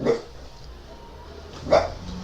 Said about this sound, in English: Oh, is that the dog? Somebody's dog. Dog's outside.